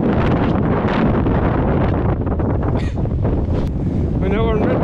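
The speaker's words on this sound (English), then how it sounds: "It's incredibly windy." Strong winter wind on a fell top near Scafell Pike buffets the microphone in a loud, continuous roar, with a voice briefly audible through the gusts.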